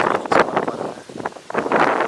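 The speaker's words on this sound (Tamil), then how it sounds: "காற்று பயங்கரமாக வீசிட்டு இருக்கு" Strong gusts during a cyclone in Chennai buffet the microphone in loud, uneven surges that rise and fall over about two seconds.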